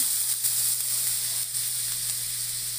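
Garlic sautéing in hot cooking oil, a steady close sizzle and crackle that continues without pause.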